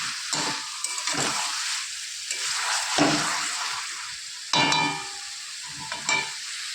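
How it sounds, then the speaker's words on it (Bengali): Boiled potatoes fry with spices in a pan for an egg curry, a steady close sizzle broken by several scraping stirs of a spatula, loud and without talk. "তাহলে আলুটা একটু ভাজা ভাজা হবে।"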